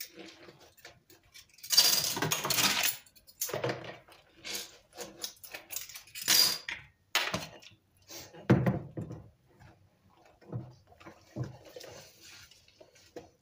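Dishes are washed by hand in a home kitchen, with bursts of running water and splashing alternating with clinks of cutlery and pans, close and intermittent.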